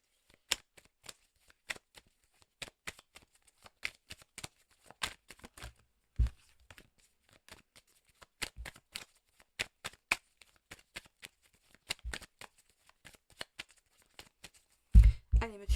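Belline oracle cards being shuffled by hand: a long run of crisp, close riffling bursts in irregular clusters with short pauses, ending in a louder handling rustle.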